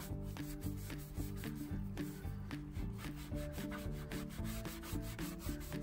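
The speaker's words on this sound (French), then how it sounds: "on frotte bien pour que ça enlève le plus gros" A Corvette C5 exhaust outlet plate is scrubbed with cleaning product in quick back-and-forth strokes, a steady close rubbing rhythm over faint background music, with no talking.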